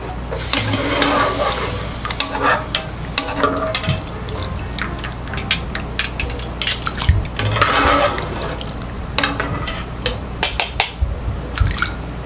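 Blanched konjac rinsed in cold water in a kitchen, with splashing and running water broken by repeated clinks and knocks of bowls and utensils in an uneven rhythm, close and clear.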